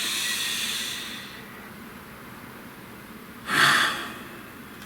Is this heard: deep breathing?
yes